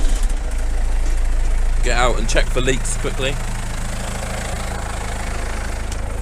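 A farm machine engine with 12,633 hours on it runs at a steady, loud idle right after servicing, with a low, continuous rumble throughout while someone speaks briefly over it.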